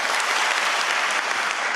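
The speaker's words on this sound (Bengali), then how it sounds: "ওনাকে একটা হাততালি দেন" Audience at a motivational talk breaks into applause, a full continuous burst of many people clapping at once, close and loud throughout the short stretch.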